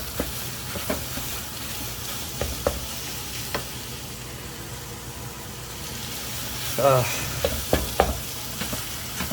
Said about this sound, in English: you cut up and brown your meat, and season it